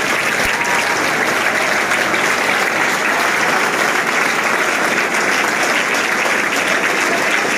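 A large school crowd claps loudly and continuously for the Indian army, a thick, even roar of applause filling the whole stretch without pause.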